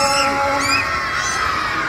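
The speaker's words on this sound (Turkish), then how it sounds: "en yüksek sesinizle arımaya diye bağırarak onu buraya çağırın" A crowd of children shouts loudly together at a live Arı Maya bee show, a sustained chorus of high voices calling out over about two seconds.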